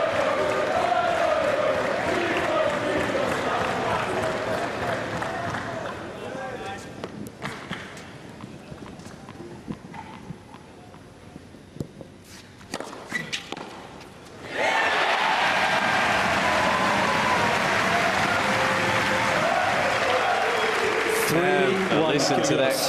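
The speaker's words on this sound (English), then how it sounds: "Listen to that crowd." A tennis crowd at the Australian Open 2014 second-round match breaks into loud, sustained applause and cheering. It fades to quieter murmurs with commentators talking, then surges back into a full roar.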